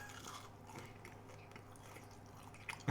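Someone chewing a chocolate-free blondie up close, soft moist crunching and mastication sounds, quiet and continuous with a sharper bite at the end.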